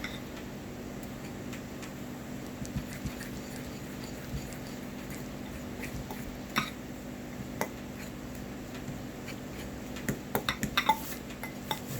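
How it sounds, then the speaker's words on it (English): A spoon stirs strawberry lemonade cake batter in a bowl, producing quiet scraping and scattered light clinks and taps against the sides, with a few quick clusters of knocks near the end. "Just keep on stirring."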